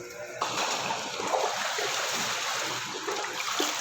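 A shower runs in a steady broadband rush of water spraying and splashing, close and continuous throughout with no pauses.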